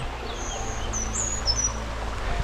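Birds give high, thin chirps and short whistled calls at a moderate distance over a steady wash of falling rain and running water near a bridge and stream. No one speaks.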